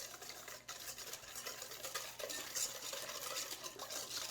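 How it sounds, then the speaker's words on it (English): Egg yolk sabayon whisked steadily as it cooks, a fast continuous light scraping and clicking of the whisk against the bowl, close and fairly quiet with no talking. "I'm just going to use a whisk."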